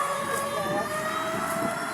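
A fire truck siren wails steadily in the distance, its rising and falling tone carrying over street noise.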